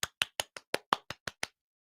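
Nine sharp hand claps ring out in an even, steady rhythm over about a second and a half, close and distinct, then silence.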